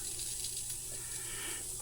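Automatic yard sprinkler system running at high pressure outdoors, giving a steady hissing spray of water that holds level throughout with no voices.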